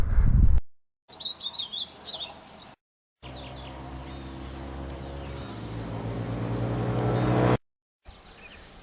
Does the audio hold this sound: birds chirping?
yes